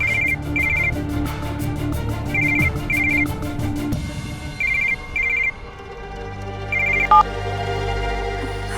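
A telephone rings in repeated short electronic trilling bursts, loud and close at first, then fainter and farther off as the scene shifts, with no one speaking.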